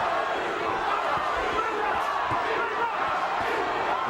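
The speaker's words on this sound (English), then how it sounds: "The crowd trying to urge Tapia on with chants of Johnny" A boxing arena crowd at the Ayala vs Tapia rematch roars and chants in a dense, steady wash of many voices that stays loud throughout.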